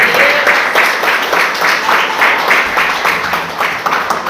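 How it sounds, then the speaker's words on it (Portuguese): A church congregation at an OBPC service in Brazil claps together in a loud, rhythmic beat, the strikes falling at a quick, even tempo over a bed of mingled crowd noise. "A salva de palmas para o Senhor Jesus."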